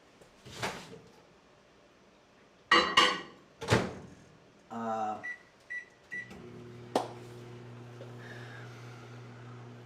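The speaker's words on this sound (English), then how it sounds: "We're gonna put these in the microwave for 30 seconds or until it's completely melted" A microwave oven melting a topping for cupcakes: a few clunks and knocks from the door, a short run of electronic beeps, then a low, steady mechanical hum as the oven runs.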